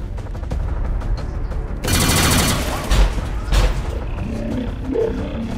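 Rapid fire gunshots in XCOM 2, a short loud burst of shots followed by a few sharper single cracks, all over a low game ambience.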